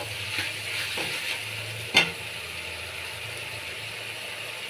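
Spices sizzle and are stirred in a pan for a pangas fish curry with potato and eggplant, a steady soft hiss with a sharp scrape near the two-second mark, no voices.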